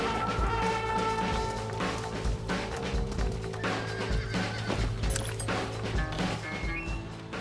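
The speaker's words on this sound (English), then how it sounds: "Now listen, Jack, Gnarly, get on this horse." A horse whinnying and trampling in Red Dead Redemption, with hooves thudding amid a busy game soundscape and crashing impacts; the neighing is prominent and close over continuous background noise.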